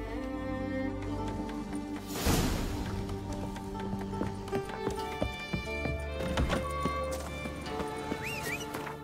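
Horse hooves clip-clopping steadily in The Witcher 3 video game, mid-distance, alongside a horse whinny, over game music and ambient sound.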